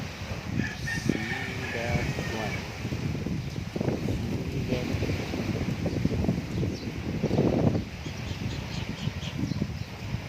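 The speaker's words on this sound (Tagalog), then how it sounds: "sa ikat baybay marami ang hangin no" Steady wind noise buffeting the microphone outdoors at a beach, with a rooster crowing in the background and faint voices.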